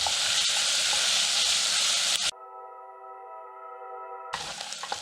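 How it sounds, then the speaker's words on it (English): Garlic and vegetables for a lentil soup sizzle loudly and steadily in a pot, with the hiss cut off midway by a sustained electronic tone before the frying sound returns. "Let's give these a quick stir, and we'll be cooking the veggies for about 5 to 7 minutes."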